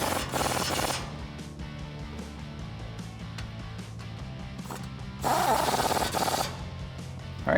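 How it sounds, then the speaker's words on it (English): A 22 mm socket tightens the leveling kit bolts on a 2007-2021 Toyota Tundra's Mammoth 3-inch front leveling kit. Two loud bursts of tool noise, one at the start and one later, are separated by quieter workshop background. "Grab your 22 socket and tighten them down"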